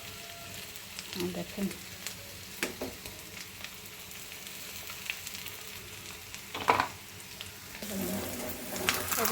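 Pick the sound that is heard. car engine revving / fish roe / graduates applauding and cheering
fish roe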